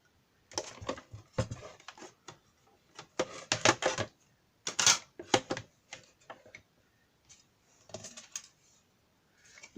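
A die-cutting machine cutting paper for a scrapbooking pocket notepad, heard as a run of close, sharp clicks and crunching bursts in uneven clusters, with brief quiet gaps between them.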